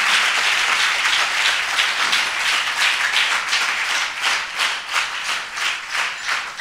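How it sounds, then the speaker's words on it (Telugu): A church congregation claps hands together in a steady, loud burst of applause during a sermon, the clapping gradually settling into a more rhythmic, pulsing beat toward the end. "చప్పట్లు కొట్టండి ఒకసారి"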